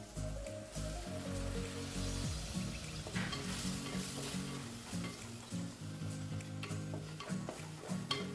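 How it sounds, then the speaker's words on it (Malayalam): Chopped onion, green chilli and tomato sizzle steadily in a frying pan while a spoon stirs and scrapes them in an irregular rhythm, close and continuous throughout with no talking. "രണ്ട് പച്ചമുളക് രണ്ട് തക്കാളി ചെറുതായിട്ട് അരിഞ്ഞതും കൂടെ ചേർത്ത് നന്നായിട്ടൊന്ന് മിക്സ് ചെയ്തെടുക്കാം"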